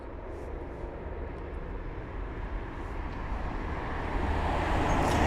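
A British Airways Airbus A350-1000 airliner arriving from Delhi at London Heathrow, a broad engine roar that builds steadily and grows louder toward the end, with no talking.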